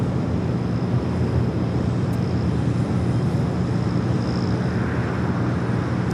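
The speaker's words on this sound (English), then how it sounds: "this is flight 201 heading back to Seoul on this A380 Super" An Airbus A380 airliner at LAX, flight 201 bound for Seoul, gives a steady, loud, broadband jet roar with a low rumble that holds evenly throughout, mixed with some wind noise.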